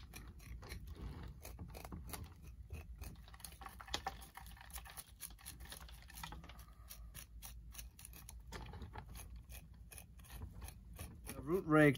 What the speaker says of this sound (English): I'm just gonna take my scissors and just trim those back